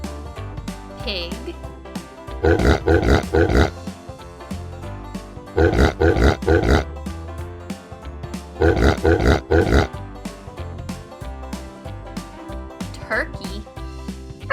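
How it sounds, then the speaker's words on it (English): A farm pig grunts in three clusters of rapid, rough snorts, spaced a few seconds apart over quiet background music. "Pig."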